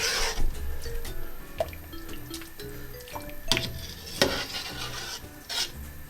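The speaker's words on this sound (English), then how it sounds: "So I'm just going to give that a stir." Salt beef soup with banana and other ingredients being stirred in a pot, giving soft intermittent scraping and liquid swishing strokes at close range, with no talking.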